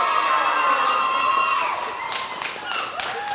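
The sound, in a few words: crowd cheering at a swimming meet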